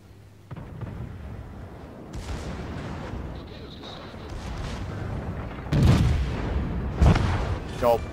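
Naval guns fire in World of Warships, a rumbling battle bed broken by heavy booming salvos near the end, with a voice speaking over the action.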